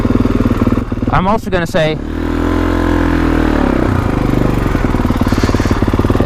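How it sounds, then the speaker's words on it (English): 2021 Kawasaki KX450X dirt bike engine running loud and close, a rough throbbing idle with a couple of sharp throttle blips early on, while someone talks over it. "it's a dirt bike"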